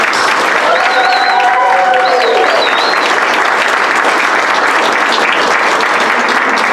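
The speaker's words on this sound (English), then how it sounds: "So let's give them another big round of applause" Dense, loud audience applause for youth performers at a dessert theater show, steady and unbroken throughout, with a few faint whistles early on.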